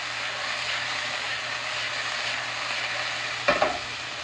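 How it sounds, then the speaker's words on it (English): Chicken pieces frying in a pan with a steady hiss and sizzle, then a brief clatter near the end as they are tossed and flipped, no voices. "you can give them a little toss and a flip over"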